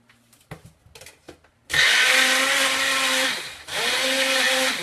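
A home kitchen blender starts up at about 1.7 seconds after a few soft knocks and clatters, whirring loudly and steadily, dipping briefly near 3.5 seconds as it blends pancake batter, then surging back up.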